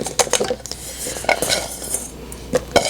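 Broken Snickers bar pieces tipped into a mixer bowl of cheesecake batter, making a quick run of clattering knocks and scrapes against the bowl, close and loud, with a second burst of clinks near the end.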